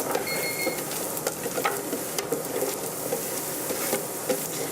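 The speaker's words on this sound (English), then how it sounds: "Sauteing them like this gives it kind of a roasted flavor." Butternut squash and carrots sautéing in oil in a pan, a continuous close sizzle with scattered crackles and stirring scrapes, steady and moderately loud with no voices.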